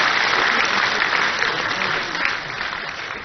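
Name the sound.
audience applause welcoming the chief minister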